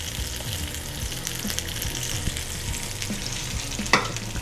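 Food sizzles steadily in a hot pan, a constant crackling hiss with small pops and an occasional utensil clink near the end.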